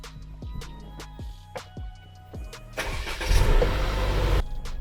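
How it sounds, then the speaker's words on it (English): A Mercedes-Benz GLC 200 starts up: a series of clicks and chimes gives way to the engine cranking and catching into a steady idle, heard from inside the car with no talking. "Now let's start the car."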